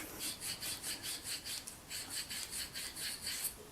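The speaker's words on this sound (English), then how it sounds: "if I'm using relatively new copper, I'm just going to use steel wool." Steel wool rubs back and forth over copper to clean it, making a steady rhythmic rasping scrape of about a dozen even strokes. The sound is fairly quiet and close, with no talk.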